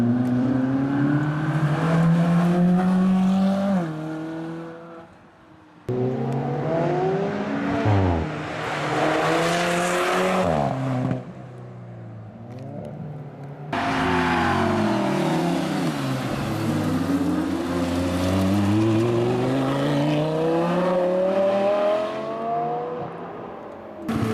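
Supercars roar along an epic mountain road, engines revving hard with rising and falling pitch as they pass close, one sweep after another with brief dips between, loud and continuous without talk.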